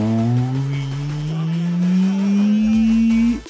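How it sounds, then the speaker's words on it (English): An electric car in the Asphalt 8 racing game whines up in pitch as it accelerates, a smooth rising electric motor tone with a brief tire squeal, loud and close before cutting off at the end. "I do really wonder if anybody likes the way an electric car sounds"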